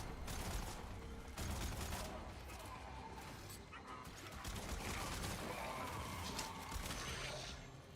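Gunfire in the video game Warframe crackles in steady bursts under a busy mix of game noise, with a voice talking over the shooting.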